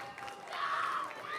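A middle school audience cheers and whoops in a brief burst, a crowd of young voices rising and peaking before easing off, fairly distant.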